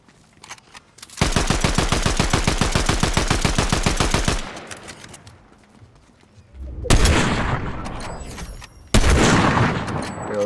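Enemy gunfire in Fortnite: a long run of loud, evenly spaced automatic shots rattles for about three seconds, then heavy blasts and further bursts of fire follow after a brief lull.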